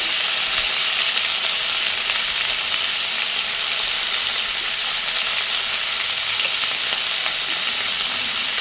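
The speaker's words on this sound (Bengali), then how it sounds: "সুন্দর করে ভেজে নেব সব কিছুকে।" Flat beans frying in a pan, a loud continuous hiss and sizzle of hot oil, steady and close throughout, with no voices.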